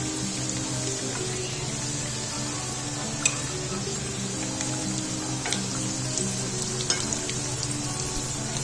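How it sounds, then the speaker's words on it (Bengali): About five samosas deep-frying in hot oil in a kadai, a steady, dense sizzling hiss over a low hum, with a few sharp pops and crackles scattered throughout. "এখানে কড়াইতে তেল বসাই দিয়েছি, তেলটা গরম হয়ে গেছে। এখানে প্রায় 5টার মতো সমোসা দিয়ে দিলাম।"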